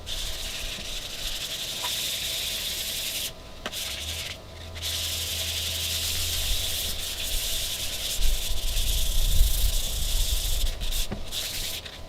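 Wet or dry sandpaper rubbing across foggy car headlight lenses, moving through 220, 400 and 600 grit, makes a steady close-up scratchy hiss with brief pauses, heard alone.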